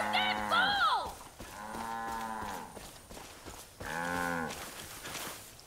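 Cattle in Far Cry 5 let out a loud, drawn-out bellow, then two more long moos with a pause between them, close by with a steady game background beneath.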